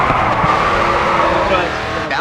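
Race car drifting around a corner in the racing game GRID 2, a loud continuous engine roar with tire noise sliding through the turn, under a talking voice.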